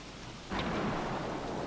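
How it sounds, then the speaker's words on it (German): Lightning strikes with a sudden crack and rolling thunder over a steady hiss of rain in the survival video game Don't Starve: Reign of Giants, the burst fairly loud and close. "Au, mich hat ein Blitz getroffen."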